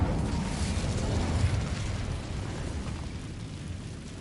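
A fire spell cast in Hogwarts Legacy, heard as a sustained roaring whoosh of flame, loud and close, fading gradually over several seconds with no talk over it.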